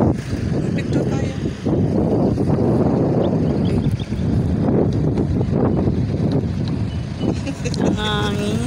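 Strong wind buffets the microphone in a constant low rumble, with voices speaking faintly underneath and a brief whistle near the end.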